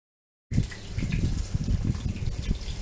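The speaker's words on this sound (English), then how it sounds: "Then throw that water out." Water used to soak saltfish overnight is dumped out, starting abruptly as a steady close gush and splash that runs for a couple of seconds.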